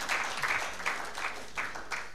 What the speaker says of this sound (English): Give her another hand clap.